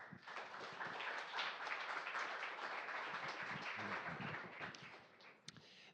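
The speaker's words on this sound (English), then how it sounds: "And let's give him a big round of applause." An audience applauds a presenter at an evening talk, a steady wash of clapping that holds for several seconds and then tapers off, with a few stray claps at the end.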